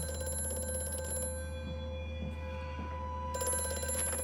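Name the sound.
telephone ringing in Amnesia: A Machine for Pigs video game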